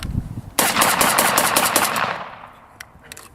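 At a World War II reenactment event, an intermediate-cartridge assault rifle fires one loud, sustained automatic burst of rapid shots that echoes and fades, followed by a few faint scattered pops.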